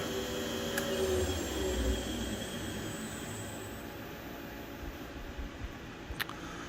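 A TRAK FHM7 CNC bed mill spindle runs without a tool at its 5000 RPM top speed, giving a steady, broadband whine and hum that fills the whole stretch with only faint clicks.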